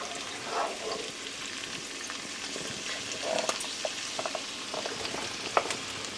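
Mushrooms cook gently in a pan for a Marsala mushroom cream spinach pasta, a soft, steady sizzle broken by a few faint stirring clicks, close and unhurried.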